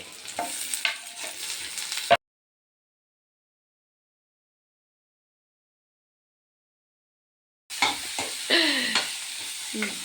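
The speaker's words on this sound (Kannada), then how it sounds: "ಇದನ್ನು ಚೆನ್ನಾಗಿ ಫ್ರೈ ಮಾಡಿಬಿಟ್ಟು ಮಿಕ್ಸಿಗೆ ಹಾಕ್ತೀವಿ." Spices, coconut and tomato frying in a pan for a masala give two short bursts of close sizzling and stirring scrapes separated by a long stretch of silence.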